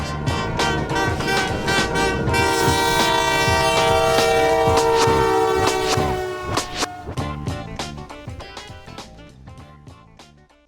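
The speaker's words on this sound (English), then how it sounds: "it's time to talk about the Canadian Pacific's Eco locomotives." Canadian Pacific ECO diesel locomotive sounding a loud multi-chime train horn with rumbling rail noise, the horn sustained then breaking into short blasts that fade as the train passes, no talking.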